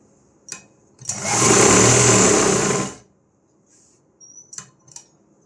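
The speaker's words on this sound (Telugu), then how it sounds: "లైనింగ్ని నీట్గా ఇలా ఒక కుట్టు అయితే వేస్తున్నాను" A sewing machine stitches blouse lining in a single close burst of about two seconds, a steady rapid whirring run, followed by quiet and a few light handling clicks.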